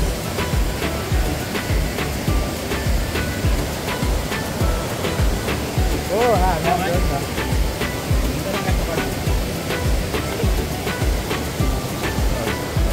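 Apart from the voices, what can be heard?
waterfall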